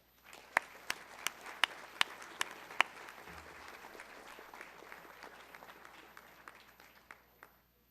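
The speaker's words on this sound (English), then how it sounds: "Give them a round of applause." Applause for honorees at a college honors convocation: a few sharp, close individual claps ring out over a softer crowd clapping that continues steadily, then thins and fades near the end.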